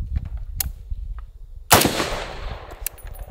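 A 7.62x51 supersonic rifle round, surplus ammunition, fired from a rifle fitted with a muzzle brake: one sharp, very loud nearby crack with a lingering decay, preceded by faint handling knocks and a small click.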